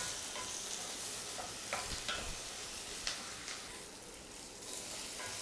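Chopped tomato sautéing with onions in a pan for vendhaya kulambu, a quiet steady sizzle with occasional light spoon scrapes.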